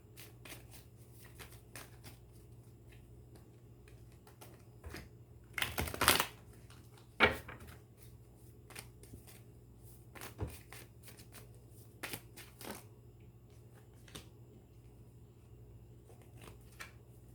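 Tarot cards riffled and shuffled by hand in a quiet room, a steady run of soft papery flicks with a few louder, sharper bursts partway through, close and with no talking.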